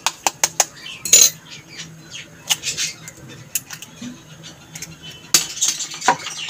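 Egg cracked against a bowl and beaten, close up: a quick run of sharp taps and clinks, followed by scraping and rhythmic whisking against the bowl, with a brief voice in the background.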